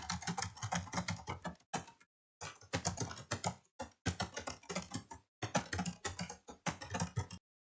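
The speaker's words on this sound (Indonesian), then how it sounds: "Jadi misal kita ngetik banyak" Typing on a computer keyboard while working in Microsoft Word, a dense run of close keystrokes in bursts separated by brief pauses, with no voices.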